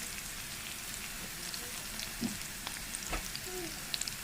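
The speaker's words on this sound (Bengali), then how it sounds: "হিংটাও ভাজা হয়ে গেছে, একটু নাড়াচাড়া করে নিয়েছি" Asafoetida and spices frying in oil for amla pickle produce a soft, steady sizzle with occasional small pops and stirring clicks, and nobody speaks.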